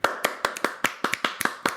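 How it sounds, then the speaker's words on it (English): Sharp hand claps ring out in a quick, even rhythm, about ten crisp claps in under two seconds, close and clear with no other sound around them. "Round of applause."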